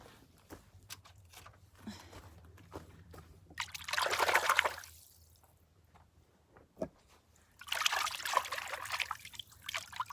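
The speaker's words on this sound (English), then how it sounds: "I'll just wash my hands a bit." Tap water runs and splashes as hands are rinsed under it, in two loud bursts of a few seconds each separated by quieter trickling and faint clatters, close up with no talking.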